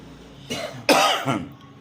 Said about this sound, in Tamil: எனக்கு இருமல் வந்துச்சு